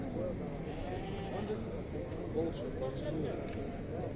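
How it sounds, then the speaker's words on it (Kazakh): Lambs bleat softly among a busy crowd of people talking at the Sokuluk livestock market's sheep bazaar, the thin calls scattered and partly buried under the chatter. "Мына қозылар."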